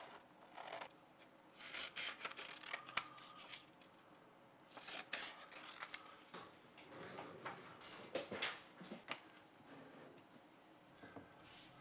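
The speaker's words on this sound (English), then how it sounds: "Cut out the test strips." Scissors snip out paper test strips in short, irregular bursts of cutting and rustling, close and fairly faint, with no talking.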